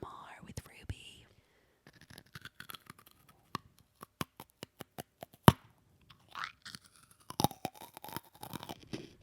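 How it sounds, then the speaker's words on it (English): Close-mic chewing and crunching right at the microphone, a run of sharp, irregular crisp clicks and mouth noises, soft and intimate with brief breathy sounds between them, no clear speech. "You're just chewing into the mic."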